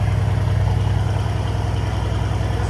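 A Mercedes-AMG C63 with a 4.0-litre V8 idles close by, a steady low rumble with an even pulsing beat and no voices over it.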